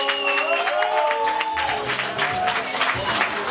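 Crowd applause and cheering at a rap battle show, a dense continuous patter of clapping with a voice and tonal whistles or shouts rising over it.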